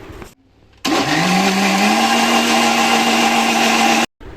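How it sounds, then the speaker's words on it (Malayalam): A blender switches on after a brief pause, blending strawberries and sugar, whirring loudly and steadily as its pitch rises and settles, then cuts off abruptly. "മിക്സിയിൽ അടിക്കണം"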